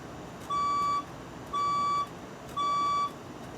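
A building fire alarm test sounds three evenly spaced, loud electronic beeps, each about half a second long, with short quiet gaps between them.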